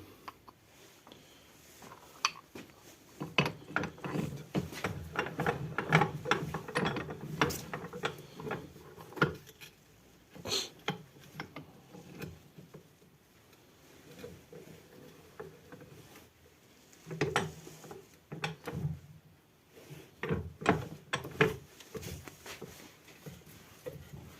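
A drill chuck is pressed apart using a bushing, producing a close series of irregular metallic creaks, ticks and scraping knocks in uneven bursts, with brief quieter gaps.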